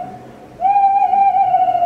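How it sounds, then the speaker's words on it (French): A tawny owl calls with one clear, sustained whistling hoot that rises slightly and holds steady for over a second. The call sounds fairly close against a quiet night background. "comment ne pas s'émerveiller devant le chant enchanteur d'une chouette culotte"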